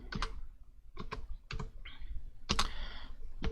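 Bursts of typing on a computer keyboard, with irregular clusters of key clicks separated by short pauses, close and fairly clear, with no talking.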